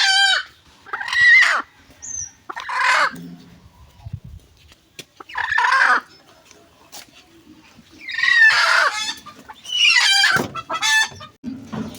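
Domestic chickens cluck in loud, close bursts at a home yard, with short pauses of quiet between calls and occasional longer, crow-like cries.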